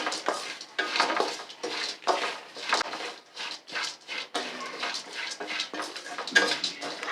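Watermelon seeds dry-roasting on low flame in a pan, stirred with a utensil: close, repeated scraping and rattling strokes in an uneven rhythm, with no voices.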